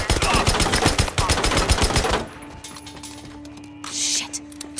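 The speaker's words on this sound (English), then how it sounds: "Snipers, up there on the roof." Sniper gunfire in the video game Days Gone, a rapid loud burst of repeated close shots lasting about two seconds, then a quieter stretch with a faint hum and a brief hiss.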